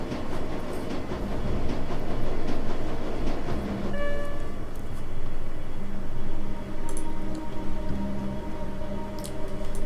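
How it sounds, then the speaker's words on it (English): A train speeds along in the video game Shadowrun: Dragonfall, a loud continuous rumbling roar with rattling wheels and a steady whining tone joining partway through. "The train's speeding towards the Cruise Bazaar station."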